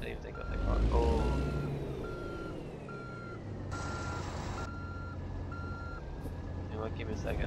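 Reversing beeps from a truck turning around in American Truck Simulator pulse at an even rhythm above a low engine drone, with a voice speaking over parts of it.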